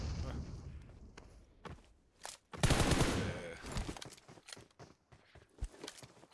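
PUBG Mobile battle gunfire crackles in scattered shots and one dense burst of rapid fire, mixed with in-game footsteps while players talk over it.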